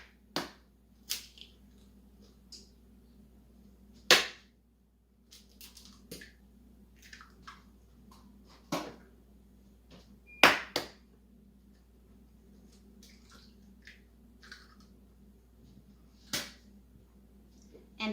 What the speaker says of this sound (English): Crack in the 3 eggs.